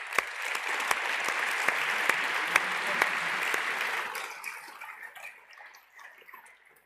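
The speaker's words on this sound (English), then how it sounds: "if you could we please have a round of applause for the sponsors?" Conference audience at a closing ceremony applauding the sponsors, dense clapping with a few sharp nearby claps, steady for about four seconds before fading away into quiet.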